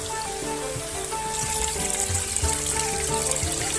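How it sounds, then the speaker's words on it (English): A small stream on the West Highland Way in Scotland flows steadily nearby, a continuous broadband rush of running water that stays fairly even and close throughout, with no voices. "we've got lots of little streams like this"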